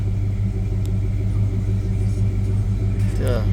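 A Dodge Ram 1500 pickup with an old 318 V8 idles with a steady low rumble close by, while someone talks over it and a brief whine rises near the end.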